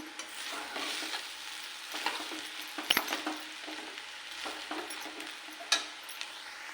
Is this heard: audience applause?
no